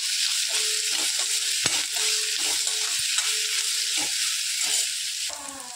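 Chopped onion and garlic sizzle steadily in a hot pan for a cashew masala curry while a spatula stirs in repeated, rhythmic strokes, each scrape rising briefly over the constant close frying hiss.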